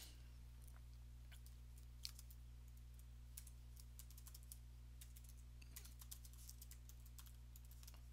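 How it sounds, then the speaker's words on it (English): Someone types the body of an email on a computer keyboard, with faint, irregular key clicks in bursts over a steady low electrical hum. No one speaks. "And type in my body of my message."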